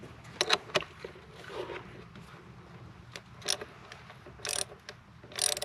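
Mechanical ratcheting clicks from a wrench tightening the battery terminal bolt on a 2006 Suzuki King Quad 700 ATV, short bursts of close, crisp clicking spaced irregularly over a faint background hum.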